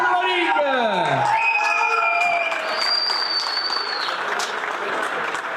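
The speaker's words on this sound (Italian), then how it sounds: "facciamo un grande applauso" Spectators at a regional wrestling tournament final in Veneto applaud and cheer for the winner of a 60 kg elite bout, with steady clapping, whoops and a voice speaking over it.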